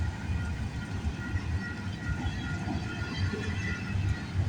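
A freight train made up mostly of manifest cars with some intermodal cars rolls past on a rainy morning. It makes a continuous, fairly close low rumble and rattle, with faint clicks of wheels on the rails. No one speaks.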